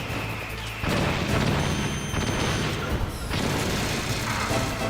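Missile explosions in the video game Metal Gear Solid crash and boom in heavy, rumbling bursts, with a loud impact near the start and another around the middle amid continuous battle noise.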